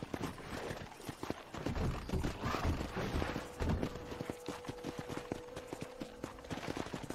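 Horse hooves clip-clop in a steady walking rhythm in the video game Red Dead Redemption, fairly quiet, with a thin tone humming in the background partway through.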